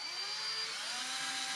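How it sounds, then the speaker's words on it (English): A power drill runs continuously and bores through wood while a pet toy box is being built, giving a steady, close, high whine that shifts slightly in pitch as the bit cuts; there is no talking. "make sure the drill is level"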